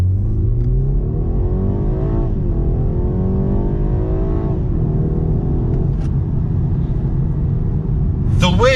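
A synthetic engine tone hums and rises steadily inside a 2021 BMW 430i (G22) cabin, piped through the speakers, a continuous droning rev that swells and falls, fairly loud throughout.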